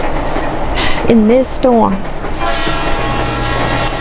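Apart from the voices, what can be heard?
train moving on tracks with horn, horror story effect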